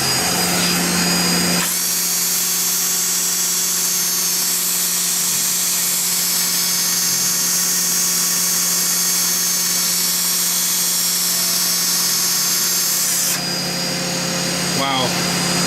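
A bench grinder fitted with a leather strop hums loudly and steadily for about twelve seconds while polishing a knife with copper inlay parts, starting and stopping abruptly.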